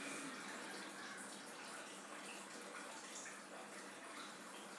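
Water pours in a steady, faint, continuous hiss as it is added to a pan of mutton liver fry, with no voices.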